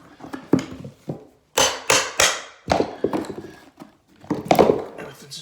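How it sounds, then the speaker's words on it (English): A hammer strikes laminate flooring planks during installation, with a series of sharp, close knocks and taps in irregular clusters, loud and dry against a quiet room. "use the hammer to pick it up like that"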